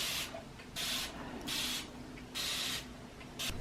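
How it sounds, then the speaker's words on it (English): Four bursts of a fine mist spray bottle hissing, evenly spaced with short pauses between each spritz, close and fairly quiet. "The spray is so fine and long."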